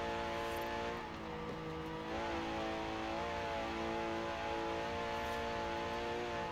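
A 1966 Porsche Carrera 6 flat engine in Forza Horizon 4 holds a steady, buzzing high-rev drone with layered harmonic tones, shifting slightly in pitch as it accelerates, loud and continuous.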